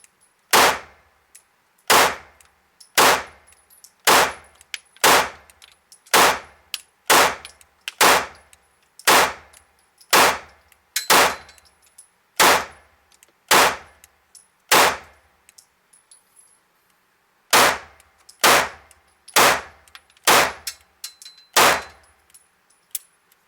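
Smith & Wesson SPEC V pistol fired repeatedly at a target outdoors, about twenty sharp, loud reports in a steady rhythm with a brief pause midway, each shot ringing with a metallic ping.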